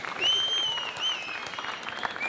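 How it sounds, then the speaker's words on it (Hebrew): Audience clapping at a yeshiva ceremony in Kfar Maimon, a dense, steady patter of many hands that swells and holds, with a faint whistle-like tone drifting above it. "כפיים!"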